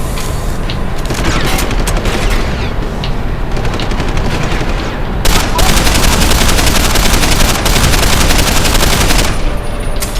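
Dense, loud gunfire and booming blasts from the Deus Ex: Human Revolution video game pound almost without pause, with rapid shots layered over a constant roar of combat.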